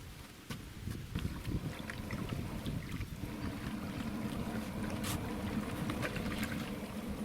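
A small boat comes across a lake toward an angler at a carp fishing spot, its steady broadband wash and hum continuous and moderately loud, with wind noise on the microphone and no talk.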